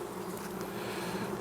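Honeybees buzzing steadily at an open, healthy hive, a dense continuous hum that stays close and even with no talk over it.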